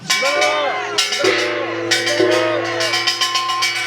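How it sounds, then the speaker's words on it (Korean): Bright metallic clanging from a Korean kkwaenggwari, a small gong beaten rapidly and steadily, with a deeper jing gong ringing underneath, loud and close, at an outdoor protest rally. "신명난 꽹과리 소리와 엄중한 징소리가 울려 퍼졌습니다"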